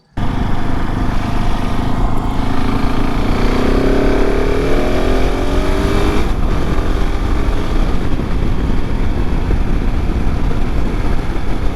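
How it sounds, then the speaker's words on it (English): A motorcycle cruising at 60 mph alongside a motorway, picked up by a bike-mounted Insta360 camera on a vibration damper: a loud, unbroken roar of engine and rushing wind throughout, with no voices. "So riding parallel to the motorway at 60 miles an hour."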